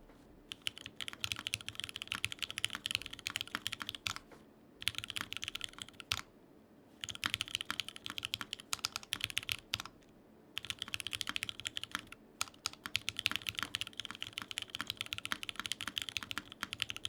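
Typing on a mechanical keyboard with fairly heavily lubed switches, dense rapid keystrokes in bursts separated by brief pauses, close and clear with no talking.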